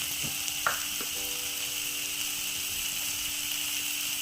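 Mushrooms with chopped tomato fry in a pan for a Kerala-style mushroom roast, a steady close sizzle with a few sharp spoon scrapes and clinks near the start.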